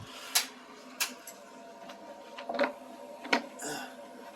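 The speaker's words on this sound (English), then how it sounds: "That tapping sound is a fuel pump." Light, irregular tapping from a fuel pump on a freshly rebuilt engine, with about five sharp clicks spaced unevenly over a steady low running hum.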